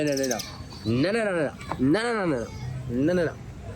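A bird calls close by at a Ritz-Carlton resort in Puerto Rico, giving four rising and falling cooing or chirping calls in a steady sequence, fairly loud and near, with no speech.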